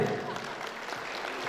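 Steady, dense applause from a crowd at a Kazakh bride's farewell wedding celebration, sustained at an even level throughout.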